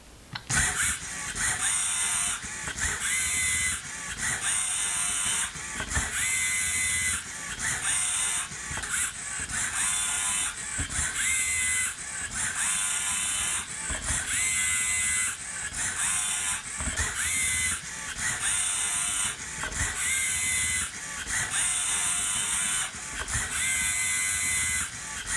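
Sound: LEGO printer prototype picking and placing parts

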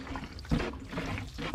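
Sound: watering seedlings with a watering can

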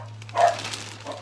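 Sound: dogs barking indoors

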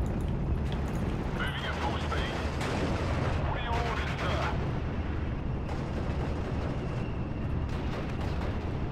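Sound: gunfire and artillery in video game Steel Division: Normandy 44

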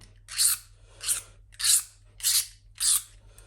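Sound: scraping bumper repair spot clean with triangular tool

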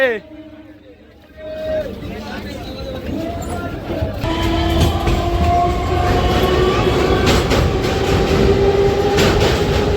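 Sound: train arriving and departing

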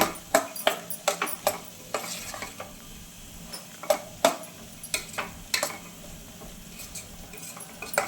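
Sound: vegetables and spices frying and stirred in oil

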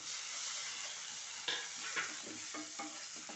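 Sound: sautéing onion and tomato in a pan

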